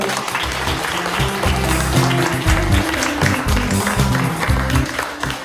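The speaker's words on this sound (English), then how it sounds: "Can you give Miss Mahler a clap?" Students in Cairo, Egypt applaud author Barbara Mahler during her Skype visit, a dense and fairly loud round of many hands clapping that runs steadily throughout.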